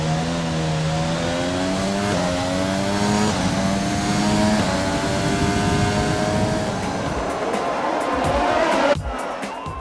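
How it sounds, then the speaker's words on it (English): Formula 1 cars race in the F1 2020 video game, their high engine whines climbing and dropping through gear changes for most of the stretch, loud and continuous before cutting off abruptly near the end. "And then at race time, as we entered the first turn, I didn't even realize I had spun out my teammate Max Verstappen."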